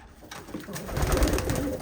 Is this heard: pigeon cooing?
yes